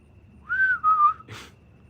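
A person whistles a short, clear tune of two sliding phrases, close and alone in a quiet room, followed by a brief breathy burst.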